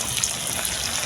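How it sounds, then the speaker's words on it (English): Coconut milk pours steadily into a cooking pot for Jamaican-style curry chicken, a continuous close liquid gush and splash with no talking. "I'm gonna add the coconut milk now."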